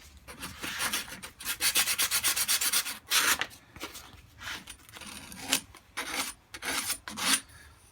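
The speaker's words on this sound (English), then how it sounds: "Now I'm going to use a little bit of sandpaper just to smooth over those edges." Sandpaper smoothing the cut edges of a crutch being made into a slingshot: close, quiet rhythmic rubbing strokes in quick bursts, with short pauses between them, no talk.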